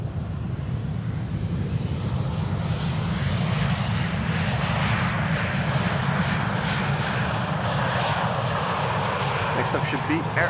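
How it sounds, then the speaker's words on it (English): An Air Dolomiti Embraer 190 jet landing at Amsterdam Schiphol, a loud, steady engine roar with broad rushing noise that holds through the pass, with some wind buffeting near the end. "This is an Embraer 190."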